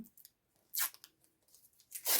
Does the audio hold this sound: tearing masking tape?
yes